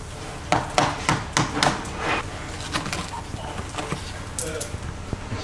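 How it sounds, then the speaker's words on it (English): Several sharp metal knocks from a hammer and chisel knocking off plastic clips come in quick succession, close and loud, then fade into quieter background clatter and faint ambient noise. "Best clip tool is an hammer and a chisel."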